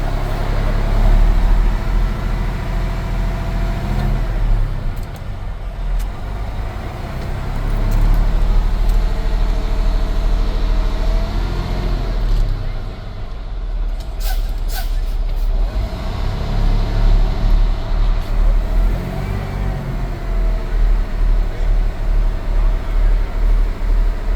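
Heavy truck at idle with its air brake system purging air during a pre-trip check, a loud low engine rumble throughout with sharp hissing air bursts breaking through midway.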